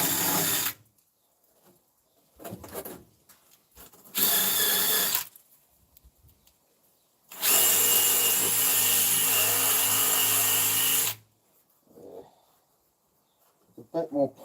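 Power tool grinds rust off a fire truck in several bursts, short whirs followed by a longer loud stretch of grinding, with someone talking in the gaps between.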